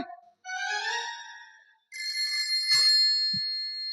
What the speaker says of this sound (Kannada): ಓ ಮಾವಾರ ದೇಸಾಯರ್ ಫೋನ್ ಮಾಡ್ಯಾರ ನೋಡ್ರಿ